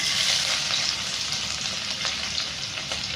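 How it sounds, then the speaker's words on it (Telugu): Garlic frying in oil with cinnamon, cloves and shahjeera for a mutton heart curry gives a steady, close sizzle that crackles on without a break and with no voices. "అట్లా ఇచ్చిగా తెల్లగడ్డలు ఫ్రై అవ్వాలి"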